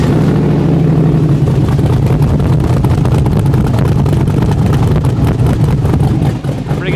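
A rock bouncer off-road build idling through a Flowmaster exhaust, a loud, steady, lumpy low rumble with a rhythmic lope that runs evenly throughout and dips briefly near the end.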